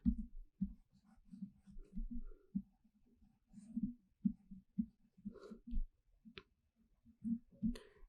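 Pen or pencil writing out a math solution, with soft, close scratching strokes in short irregular bursts and brief pauses between them.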